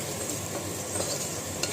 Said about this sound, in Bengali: চলুন এটা একটু ভাজা ভাজা হয়ে যায়